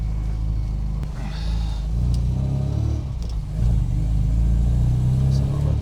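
A supercharged MGB B Series engine rumbles and revs inside the car, rising and falling in a couple of swells, its deep drone steady and fairly loud throughout.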